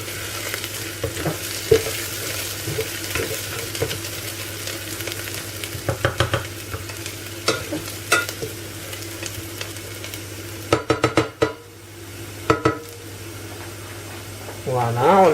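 Onions sizzle steadily in a pan for homemade lasagne, with repeated clicks and scrapes of stirring that cluster toward the end before a brief quieter stretch.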